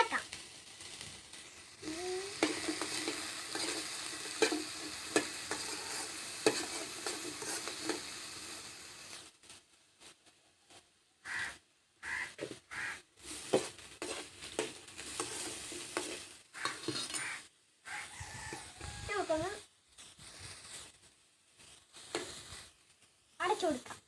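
Vegetables with turmeric powder stirred in a hot pan, giving intermittent sizzling and scraping bursts broken by short gaps, with a voice talking in the second half.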